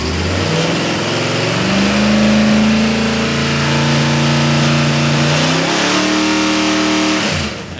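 A Ford Cleveland 408 cubic-inch V8 running on a dyno revs up, its engine note climbing steadily in pitch, holding high, then dropping away as the throttle closes, loud and close with no talking.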